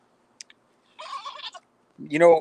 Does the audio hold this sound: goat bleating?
yes